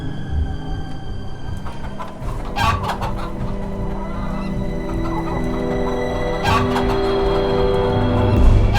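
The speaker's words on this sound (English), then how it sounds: "Oh my god, chickens!" Chickens cluck and murmur close by in a continuous, busy chorus, with a few sharper squawks rising above the steady clucking and no one talking.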